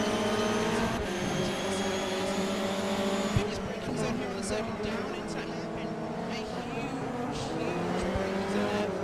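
Race cars sliding around the Suzuka circuit in a racing sim, with steady engine drone and tire squeal, while a commentator talks over them.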